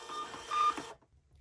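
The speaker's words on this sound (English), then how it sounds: "I have a thermal printer, so I can just hit that print button." A thermal printer printing a shipping label gives a short, steady mechanical whir for under a second, then stops abruptly; close and fairly quiet, with no voices.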